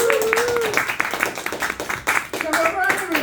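Audience at a comedy show in a pub gives brisk, continuous applause, rapid claps close and loud, with a voice talking over it.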